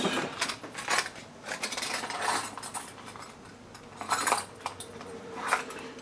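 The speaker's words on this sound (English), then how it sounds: "Pull out a handful of wrenches, all the wrong size." A handful of metal wrenches pulled out and handled while rebuilding the flippers of a Bally Black Rose WPC pinball machine, close metallic clinks and jangles in several short clusters with no talking.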